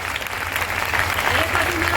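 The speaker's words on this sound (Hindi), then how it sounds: "एक जोरदार तालियां इन सभी मिलेनियल्स के लिए जिनसे आप सुने" Applause from an event audience, a dense sustained wash of clapping from a crowd, loud and steady for a couple of seconds.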